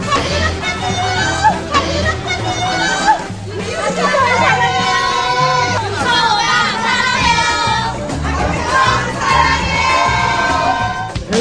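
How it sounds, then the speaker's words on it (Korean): Fans crowd around an actor and singer and cheer loudly, a steady wash of high, excited shouts and screams layered over chatter and babble with voices talking nearby. "해외 팬들의 환호가 쏟아지는 등 등장부터 남달랐는데요"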